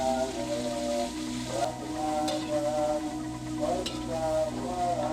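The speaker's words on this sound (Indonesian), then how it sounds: "Bu Yanti memasukkan sayur dan bahan-bahan yang lain yang telah ia siapkan untuk dimasak" Vegetables and seasoning stir-fry in a pan with a steady sizzle, while a utensil scrapes through them in repeated strokes and gives occasional sharp clinks against the pan.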